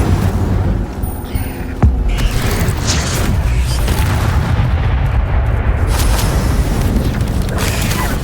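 Spell blasts in the Hogwarts Legacy video game, loud continuous booming impacts and rumbling bursts layered densely with no pauses.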